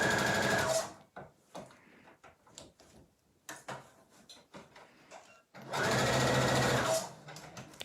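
A sewing machine stitches bolster cushion fabric in two loud, fast runs of rapid chattering, at the start and again near the end, with quieter rustling and handling noises in between.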